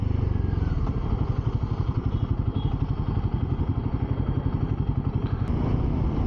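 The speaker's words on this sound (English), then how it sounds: "Because this has a very torquey engine, you will have to constantly rev the engine as well." New Royal Enfield Himalayan motorcycle engine lugging at low revs, a loud, close, uneven chugging thump with steady irregular pulses throughout and no talk.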